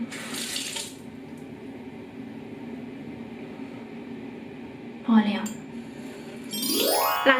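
A bathroom sink tap runs steadily after a face wash, a continuous close hiss of water, with short bursts of handling noise near the end.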